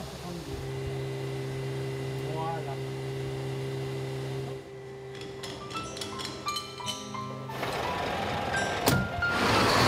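A milk collection truck pulls in at a cheese dairy, its engine a steady low drone with reversing beeps, then quieter rattles and clanks as it settles, with some background noise close by.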